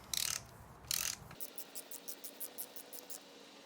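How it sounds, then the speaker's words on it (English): A wrench ratchets out transmission oil pump bolts during a 42RE rebuild, with two short bursts of rasping followed by a fast, even run of clicking ratchet strokes. "It's going to go through and take out all of the pump bolts."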